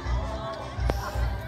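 Football fans at a women's charity tournament at a bar arena, a steady crowd murmur with scattered voices rising and falling, one brief shout standing out, under close-up talk.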